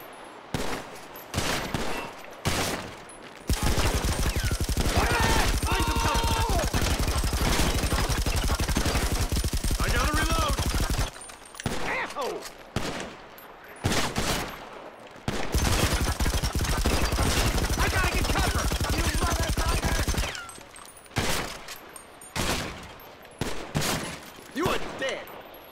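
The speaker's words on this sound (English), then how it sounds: "Good suppressive fire." Sustained automatic gunfire from GTA Online, a multiplayer shooter, with long dense bursts separated by shorter volleys and single shots, loud and close.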